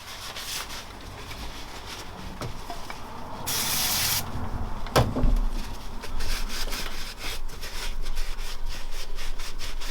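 Carb cleaner sprayed onto a motorcycle front-end part on a GS500 scrambler build, with one clear hiss burst of about a second near the middle amid steady rubbing and wiping noise, close and moderately loud.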